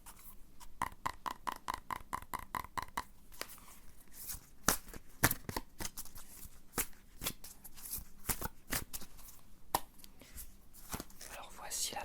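Tarot cards are shuffled for a Virgo reading in a quiet ASMR setting, with a rapid riffling burst followed by irregular soft taps and slaps of cards, close and hushed, while a voice speaks softly throughout.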